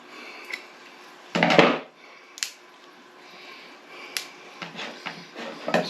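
A glass jar of turkey brine being wrestled open, with scattered faint clicks and one louder burst of scraping, rattling effort near the start, then small intermittent ticks and knocks close by.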